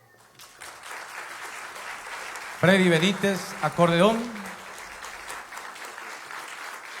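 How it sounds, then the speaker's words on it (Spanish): Audience at the World Harp Festival in Asunción, Paraguay, applauds a harp ensemble, a soft bed of clapping running throughout while a man announces a musician over it midway. "Aplauso, por favor."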